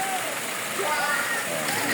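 Water from a stream fed by Kabuayahan Falls flows in a steady, close wash of broadband rushing. A voice speaks briefly over it.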